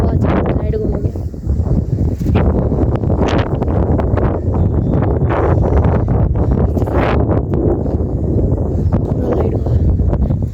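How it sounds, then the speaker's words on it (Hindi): Strong wind gusting across an outdoor microphone, heavy low rumbling buffets and rustling that rise and fall throughout, loud and close, with no clear speech. "अभी इतना हवा चल रहा है"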